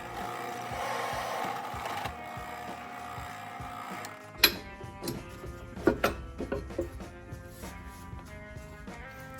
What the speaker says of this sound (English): I am using my drill press to make holes at each end of where I need the cut to be